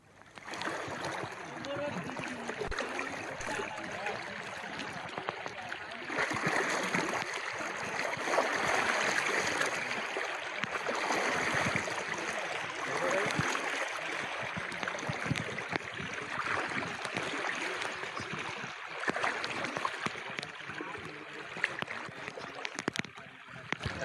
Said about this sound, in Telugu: భారీ వర్షానికి ఎర్రవాగు ఉప్పొంగి ఉధృతంగా ప్రవహిస్తోంది